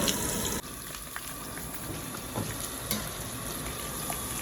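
Okra pieces with peanuts deep frying in hot oil, giving a steady, close, even sizzle and bubbling throughout, with a few small clinks and stirring noises.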